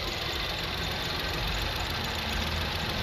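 A BMW X2 engine idles steadily close up, a dense, even mechanical hum with a slight knocking texture and no voices.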